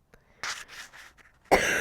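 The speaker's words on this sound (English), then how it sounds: "I'm having allergies, that's why I'm coughing." A few rough, breathy coughs, one after another, with a louder harsh cough bursting in at the end.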